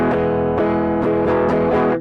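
An electric guitar played through distortion chugs out a rhythm in four strong, evenly spaced strummed accents, loud and close, ending abruptly.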